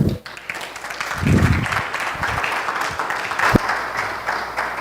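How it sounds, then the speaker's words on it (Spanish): Business-event attendees break into applause for speaker Jorge Botti, a full, continuous clapping with a few louder thumps mixed in, lasting throughout. "Un aplauso para Jorge Botti."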